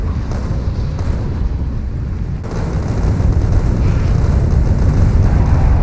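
Turrets battle a medium demolisher on Vulcanus in Factorio, producing loud, dense rumbling booms and rapid bursts that swell into a heavier roar partway through, with no talking.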